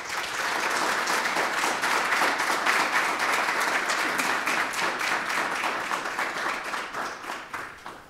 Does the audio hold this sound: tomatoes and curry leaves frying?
no